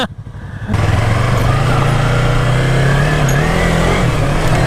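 A Yamaha YZF-R3 motorcycle revs loud and close during a wheelie, its engine note holding a sustained high drone after a sharp rise in the opening second.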